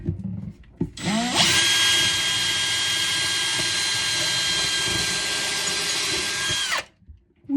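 A power drill with a metal bit bores into a sailboat cabin, a loud, steady high-pitched whine that holds for about five seconds after a brief start and then cuts off abruptly.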